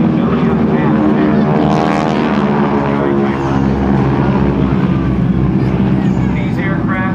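Propeller aircraft flying in formation at the 2006 NAS Oceana airshow roar steadily overhead, a loud continuous engine drone with shifting tones as an announcer talks over it.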